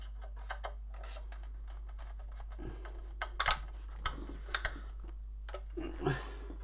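Small screws being driven by hand into a plastic Lamborghini Miura scale model's wheel arches, heard as quiet scattered clicks and scratchy taps with no talking.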